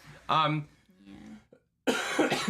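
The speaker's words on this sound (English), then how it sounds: "Sorry, y'all, I am dealing with a pretty bad cough." A person coughs and clears their throat a couple of times, close up, between bits of speech.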